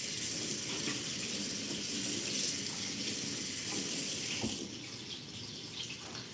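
Tap water runs steadily into a sink while bacon fat is rinsed under it, a loud continuous rush lasting over four seconds before the flow cuts and a quieter room tone remains.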